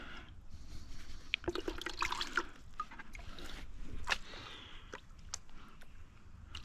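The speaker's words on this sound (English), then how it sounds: "We wash that light sand off first from the front" Water sloshing and trickling as light sand is washed from a gold pan at a river, soft irregular splashes and drips, fairly faint against steady outdoor water noise.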